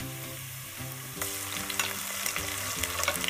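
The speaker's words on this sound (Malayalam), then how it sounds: "ഉള്ളി നന്നായി ബ്രൗൺ കളർ ആവുന്നത് വരെ വഴറ്റുക." Browned onions with ginger garlic paste fry in a pan, a faint background melody giving way to a louder, crackling sizzle that continues steadily under the music.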